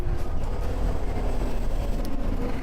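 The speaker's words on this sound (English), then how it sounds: "Here's the train." A London DLR train rolls along, a steady low rumble of wheels and motors heard from inside the carriage, with no talk over it.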